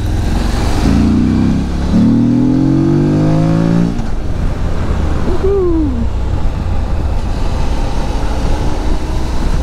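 Morbidelli T1002VX motorcycle, a 2025 model, growls at full throttle, its engine note rising in a steady harmonic sweep for a few seconds before settling into a loud, continuous rumble with road noise.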